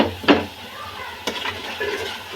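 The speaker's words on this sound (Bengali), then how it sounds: "টক দই মাখানো মাছটা মাছটা ছেড়ে দিলাম" Yogurt-coated prawns dropped into a hot pan for prawn malai curry, a sharp splash and sizzle followed by stirring scrapes and a soft continuing fry, close by.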